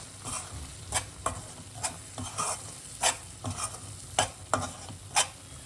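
Hot milk poured a little at a time into amaranth (rajgira) sheera cooking in a pan, heard as soft sizzling with repeated stirring scrapes and clinks at an irregular rhythm, close by, with no talking.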